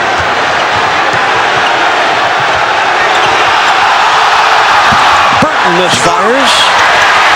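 A Madison Square Garden basketball crowd roars steadily through the whole stretch of an NBA game against the Heat, with an announcer talking over the dense, sustained noise and a brief rise of cheering near the end.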